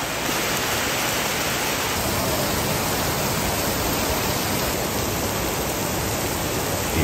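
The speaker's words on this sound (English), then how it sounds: "just absolutely dump rain for an hour or two" Heavy tropical rain pours down in Pattaya, Thailand, a dense, unbroken hiss that stays loud and even from start to finish, with no voices over it.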